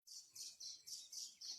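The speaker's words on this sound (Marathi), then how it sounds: "छोट्या छोट्या चिमण्या चिव चिव करायला लागल्या" Small sparrows chirping in six quick, evenly spaced bursts of bright tweets, fairly faint, with no voices.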